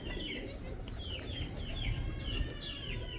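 Pigeons coo and flutter close by, several soft descending calls repeating over a low steady background murmur, with no talk.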